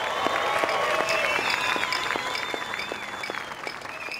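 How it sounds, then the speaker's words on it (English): A crowd claps steadily at a 2017 Rip Curl surfing awards ceremony, the applause fairly distant and even, with faint whistles rising above the hands and no one speaking. "Let's give Simon a round of applause"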